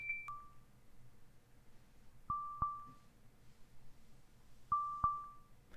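Microsoft Soundscape phone app audio cue signalling that the target lies behind the listener: a repeating pair of short pinging beeps with ringing tails, three groups spaced about two seconds apart, clean and alone over faint background.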